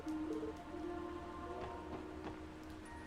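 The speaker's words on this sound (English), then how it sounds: "Sounds like we're getting rain in most of the state today." Steady rain patters on surfaces in a rainy-day video game scene, joined by faint tonal game sounds and a few brief drip-like taps, with no voices.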